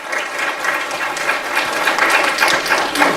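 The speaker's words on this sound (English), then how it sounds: "Would you please give them a round of applause in their absence?" An audience at a school district citation ceremony claps steadily, a bright crowded patter of many hands sustained evenly for a few seconds, moderately loud with no talking.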